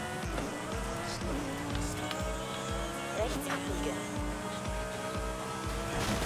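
A Lamborghini in Forza Horizon 5 drives with a steady engine drone and shifting gears, with brief tire squeals. The engine sits under music-like tonal layers throughout.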